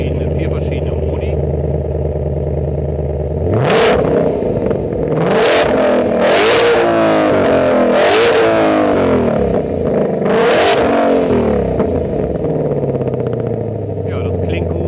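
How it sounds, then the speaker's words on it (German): A 2021 Ford Mustang Shelby GT500 in Grabber Yellow with sport exhaust starts from a steady idle, then gives five loud, sharp revs in quick succession that each fall back, before settling into a deep burbling idle again. "Der hat ja einen Sportauspuff. Vier verschiedene Modi."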